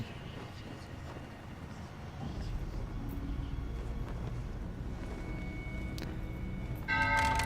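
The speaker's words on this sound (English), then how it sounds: "When you hear that bell, that doorway opens and you can respawn your ship" A bell tolls aboard the ghostly ship of the dead in the pirate video game Sea of Thieves, ringing out near the end over a steady, dense ambient drone of in-game atmosphere.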